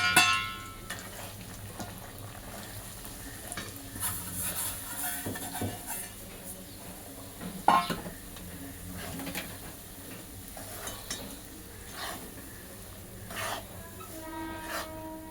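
Fine semolina roasts in hot ghee in a pan over medium heat, with a continuous hiss and sizzle and frequent scraping stir strokes at an irregular rhythm.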